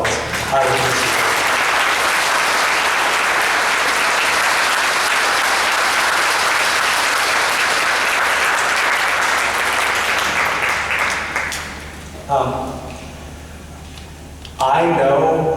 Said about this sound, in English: So if you could give them a round of applause, I would appreciate it.